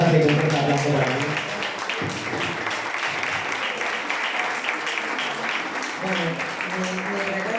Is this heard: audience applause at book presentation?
yes